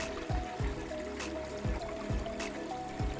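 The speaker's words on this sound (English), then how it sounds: "This is the spring I was looking for." Spring water trickles steadily beside a hiking trail on the Appalachian Trail section southbound from Pen Mar, with a few soft, regularly spaced low thuds over the flow.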